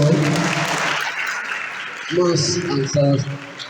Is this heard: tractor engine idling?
no